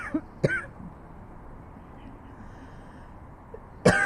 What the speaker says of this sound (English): Weird, I started coughing too.